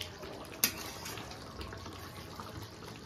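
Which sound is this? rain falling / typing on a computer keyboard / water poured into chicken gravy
water poured into chicken gravy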